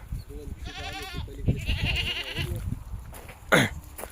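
Several goats bleat close by, one wavering cry after another, followed by a sharp higher call near the end; a cough sounds in between.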